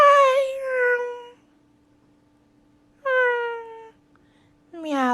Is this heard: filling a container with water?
no